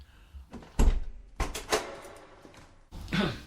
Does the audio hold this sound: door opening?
yes